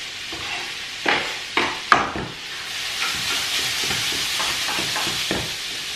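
Finely diced onion and garlic sizzling in a hot pan, steady frying hiss broken by a few distinct scraping stirs and knocks of a utensil, close and clear.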